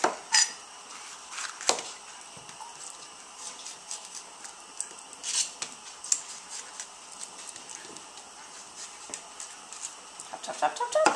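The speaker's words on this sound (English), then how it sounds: "Chop, chop, chop, chop." A knife chopping yellow pepper and other vegetables for a sautéed shrimp and orzo dinner, heard as scattered, irregular sharp clicks and knocks over a quiet kitchen background.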